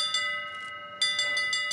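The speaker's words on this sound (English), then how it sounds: "Can you hear that dinner bell?" A ship's dinner bell in the pirate video game Sea of Thieves rings in a rapid series of bright, metallic strikes with ringing tones between them. There is a short pause, then another run of strikes.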